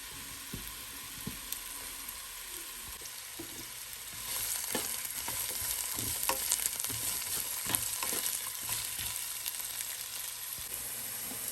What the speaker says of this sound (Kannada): ಇದು ಎಣ್ಣೆ ಬಿಸಿ ಆದಮೇಲೆ ಒಂದು 2 ಈರುಳ್ಳಿನ ಸಣ್ಣದಾಗಿ ಥರ ಹೆಚ್ಚಿಟ್ಕೊಂಡಿದ್ದೀನಿ, ಇದನ್ನು ಹಾಕ್ತಾಯಿದ್ದೀನಿ